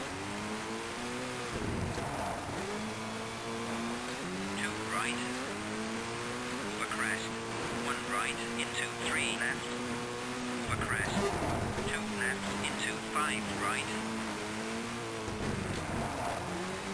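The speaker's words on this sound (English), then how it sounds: "I nearly had the car flip over on me here." Rally car engine in the Colin McRae Rally game, revving and shifting steadily through the stage with a few skids and rough thumps, while a person talks over it throughout.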